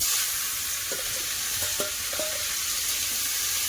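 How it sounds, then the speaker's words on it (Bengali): Cauliflower and potato frying in hot mustard oil in a karahi, a loud continuous close sizzle with a few soft stirring knocks partway through, no voices. "আচ্ছা, দিয়ে দেবো কফি আর আলু"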